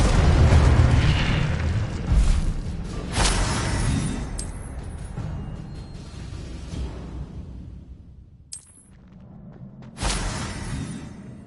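Fiery Incendio spell blasts in a Harry Potter video game boom repeatedly, with several heavy bursts, rushing whooshes and crackling tails, loud and close with no talk.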